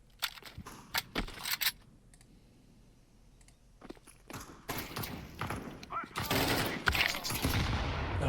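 Bursts of gunfire from a shooter video game set in a cave, loud automatic volleys and sharp shots in clusters with quiet gaps, overlapping with keyboard clicking and someone talking.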